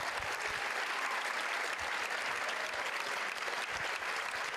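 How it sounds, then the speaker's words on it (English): Sustained applause from an audience at a local dance competition show, saluting the dancers and local stars; a dense, steady roar of many hands clapping continuously at even volume throughout, with no voices above it. "Give them another round of applause."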